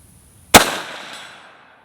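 A single sharp gunshot from a PSAK GF3 12.5-inch pistol, fired at a steel plate target about 150 out at an outdoor range, a loud crack followed by a ringing decay lasting over a second.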